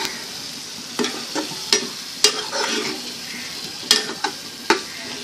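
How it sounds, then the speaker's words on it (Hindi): Baby potatoes being stirred in a pan of frying masala, with a soft continuous sizzle broken by sharp scraping and clacking strokes of the spoon at irregular intervals. "अब हम इसमें अपने बेबी पटेटोज ऐड करेंगे और मसाले को अच्छे से कोट करेंगे हम इस पर"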